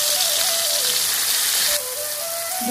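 Whole cumin and tomato sizzle in hot mustard oil in a kadai, giving a steady, close hiss of frying with a faint tonal hum behind it.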